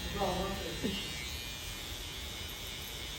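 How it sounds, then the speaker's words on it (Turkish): A small electric hair clipper buzzes steadily and close by during a sharp low fade haircut, with a voice briefly talking over the start. "Burayı ufak makineyle bu şekilde alıyorum."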